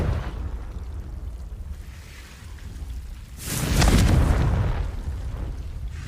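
A Confringo fire spell blast goes off in Hogwarts Legacy, a loud booming burst of a couple of seconds rising out of quieter ambient game sound, then fading into a low rumble.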